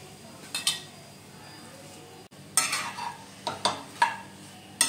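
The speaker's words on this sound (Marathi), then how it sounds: "तर हा जेवढा खोबरं आहे तो पहिला टाकून घेते पॅन मध्ये।" Grated fresh coconut stirred in a pan with ghee, a spoon scraping and clinking against the metal pan in quiet, irregular strokes with a faint sizzle underneath.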